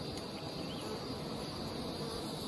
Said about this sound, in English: These bees are washboarding